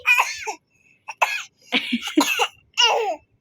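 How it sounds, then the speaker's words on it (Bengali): A boy with a winter cold coughs in several short, separate bursts, sounding close and somewhat like laughing. "তোমার কাশি হয়েছে"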